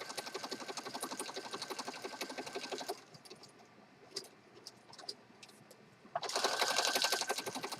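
A sewing machine stitches down the side of a journal cover, running in two loud, fast buzzing bursts with a quieter pause of scattered small clicks and handling noises between them.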